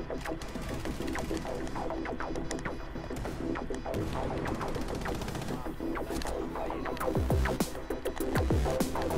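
Gunfire rattles through a video game match as dense bursts of shots over a steady low hum, continuous and fairly loud throughout.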